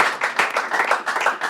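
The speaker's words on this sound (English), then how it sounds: "A big round of applause to the organizer," A crowd at a music camp gives a brief round of applause, a dense, close burst of hand clapping with no voices over it.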